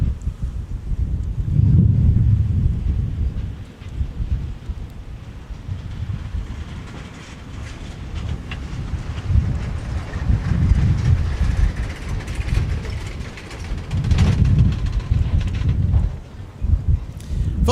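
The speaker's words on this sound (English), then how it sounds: "Delta 170 Heavy, our Delta flagship arrival from Seoul, South Korea, now on the downwind." Delta 170 Heavy, a jet airliner arriving from Seoul at Minneapolis–St. Paul, rumbles as a deep, distant roar that swells and fades in broad waves, mixed with wind buffeting the microphone.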